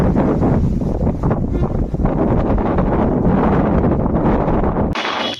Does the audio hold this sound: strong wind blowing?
yes